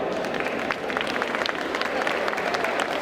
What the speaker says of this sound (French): Et on peut les applaudir à nouveau.